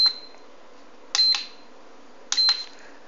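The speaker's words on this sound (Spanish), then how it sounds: "quitando el pitido que tiene este cargador cada vez que pulsamos cualquiera de sus teclas" An iMax B6 LiPo battery charger gives three short sharp beeps as its keys are pressed, each a brief clicky chirp spaced about a second apart, close and clear in a quiet room.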